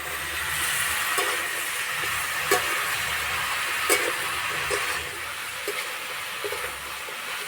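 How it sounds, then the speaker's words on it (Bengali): Greens and ash gourd stirred in a pan, a steady broadband sizzle and hiss with a few sharp scraping clicks from the spatula, close and continuous with no talk. "এইভাবে নাড়তে নাড়তে অনেকটা কমে যাবে।"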